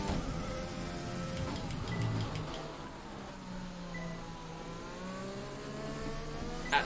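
A race car engine drones on throttle through a chain of corners, with pitch sweeping up and down as it accelerates and eases off, steady and moderately loud from inside the car.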